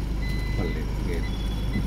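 A car in reverse gear sounds its reversing beeps under a steady engine rumble, with faint beeps over the low drone and a voice talking, during driving practice.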